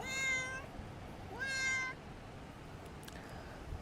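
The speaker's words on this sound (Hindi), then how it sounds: "First, meet with this cat." A cat meows twice, clear and fairly close, with a pause between calls and faint background hiss, no talking.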